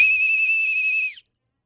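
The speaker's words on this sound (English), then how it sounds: "Here, I'll blow my whistle." A whistle blown once, a single loud, steady shrill tone held for about a second, close and alone before cutting off into silence.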